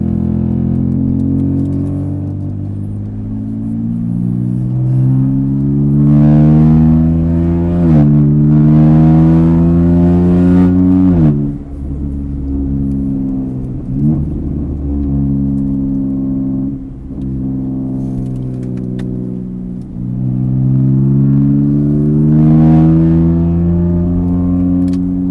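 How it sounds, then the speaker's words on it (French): A car engine revs hard with its exhaust valve open, giving repeated loud rising and falling sweeps close by, with brief dips between pulls and no talk over it. "Valve sur l'échappement, ouais."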